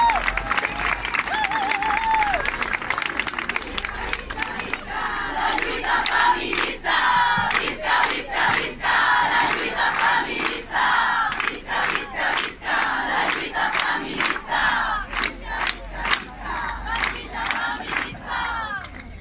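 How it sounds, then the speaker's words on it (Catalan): A crowd at a feminist strike protest cheers and applauds in rhythmic bursts, with shouts and chant-like cries rising and falling over steady clapping, loud and lively outdoors. "Aplaudiu, aplaudiu."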